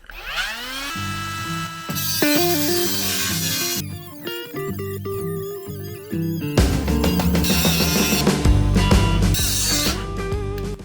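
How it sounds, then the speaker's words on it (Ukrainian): A ProCraft PGA12 mini angle grinder spins up and bites into a hardened bolt, whining and shifting pitch as it cuts, loud and close throughout. "без проблем перерізає гартований гвинт"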